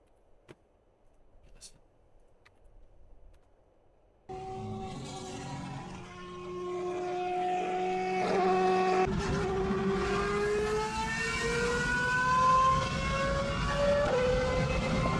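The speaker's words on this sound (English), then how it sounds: "that's an F1 engine" A Formula 1 race car engine howls in after a few quiet seconds, its high pitch rising and falling through gear changes as it grows louder and stays near and sustained.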